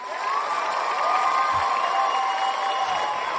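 A recorded crowd cheering and applauding as a played-back audio clip, a steady dense roar of voices and whoops at close, constant loudness across the whole stretch.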